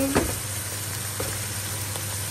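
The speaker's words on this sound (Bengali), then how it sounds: "চাল খুব ভালো মতো করে আমি ভেজে নিচ্ছি" Rice sizzles in hot oil with fried onion in a pan for biryani, a steady crackling hiss with a few scraping stirs near the start, no talking.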